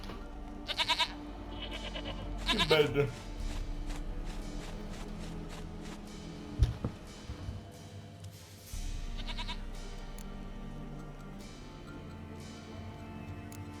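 A goat in The Witcher 3 video game bleats in several short, nasal calls near the start, heard over soft game ambience with occasional footsteps and a brief spoken remark.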